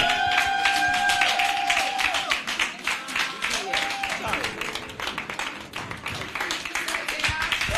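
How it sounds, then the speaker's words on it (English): A women's audience at a school alumnae plenary session claps steadily and continuously in a dense, lively burst. Scattered voices and cheers rise through the clapping, and it softens slightly toward the end. "Sisters, let's keep clapping"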